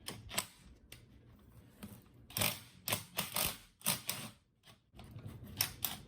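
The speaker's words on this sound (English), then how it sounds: "just need to get this nut off, and we'll go nice and slow" Nut being worked off the top of a compressed Kia Sorento strut spring, giving a string of close mechanical clicks and ratcheting bursts at an uneven, unhurried pace, with short pauses between.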